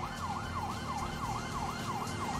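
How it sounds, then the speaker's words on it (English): Police sirens wail in Grand Theft Auto 5, a steady rising-and-falling electronic siren cycling several times at moderate distance over low vehicle noise, with no talk. "I don't think they can hear the sirens."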